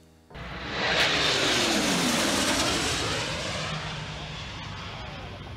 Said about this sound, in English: Take a look at this P-8 Poseidon low pass.